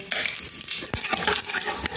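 Cumin seeds crackle and sizzle in hot oil for a tadka, a continuous close frying hiss with a spoon stirring and scraping through it.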